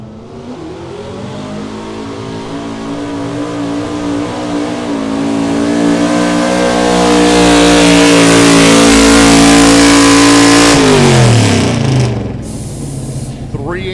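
A single four-barrel-carburetor race vehicle with full floating suspension and foot throttle launches down a fair track, its engine roaring loud and close, climbing steadily in pitch and holding at full throttle before cutting off near the end.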